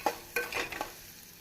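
Golden onions with ground tomato paste for brinjal thokku are stirred in a pan, with three or four quick spatula scrapes over a faint sizzle, all within a short burst.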